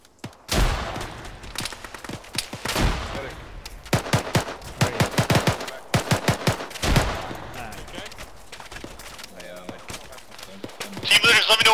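Gunfire and a grenade blast in the Arma video game, with sharp repeated bursts of shots spread across the scene, heavier volleys in the middle and at the end, under intermittent radio-style voices.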